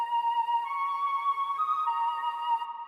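A Mellotron flute drenched in reverb with RC20 wobble and distortion holds long, smeared notes that waver in pitch and volume, shimmering continuously without any voices.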